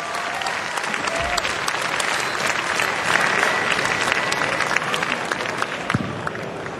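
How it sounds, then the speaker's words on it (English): A large crowd at BlizzCon 2008 applauding after a StarCraft 2 exhibition match, loud, continuous dense clapping that fills the hall with some scattered crowd noise mixed in. "how about a big round of applause for Yellow for winning that first LT match?"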